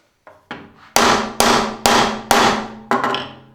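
A Halder mallet's nylon face strikes timber, giving six sharp, loud, evenly spaced thuds with brief ringing decay, close up and without voices.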